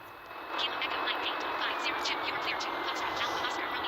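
Airliner taxiing toward takeoff in a flight simulator game, heard as a steady, even engine hiss and whine that swells slightly after the first half-second and then holds level throughout.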